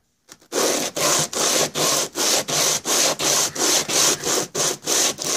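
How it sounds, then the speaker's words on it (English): A Polaris cylinder head is sanded by hand on 120-grit sandpaper after being sprayed, giving about a dozen steady, rhythmic back-and-forth scraping strokes, close and loud, with no talking. "Spray it. And sand it. And that should sand it nice and smooth."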